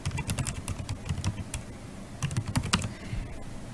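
Typing on a computer keyboard: clusters of quick, close key clicks in irregular bursts with brief pauses between them.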